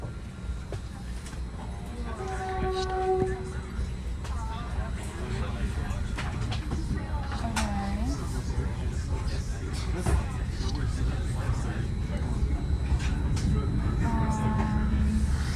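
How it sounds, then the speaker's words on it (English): A Caltrain commuter train pulls out of Sunnyvale station, heard from inside as a steady low rumble and rolling drone with faint squeals and clanks, while people talk quietly over it. "Here we are departing Sunnyvale with our next stop being Mountain View."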